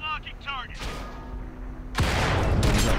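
World of Tanks combat: speech fills the first part, then a heavy booming blast of tank cannon fire and an artillery impact bursts in near the end and rumbles on loudly.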